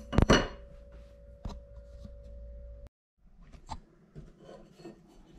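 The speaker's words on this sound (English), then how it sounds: "So I radiused the end of this piece of flat stock to match the neck tube" A file rasps across the end of 3/16 steel flat stock to shape a radius for a mini bike frame, giving a few faint scraping strokes, quiet and close, with a brief silent gap between bursts.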